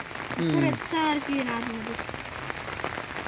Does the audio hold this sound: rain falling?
yes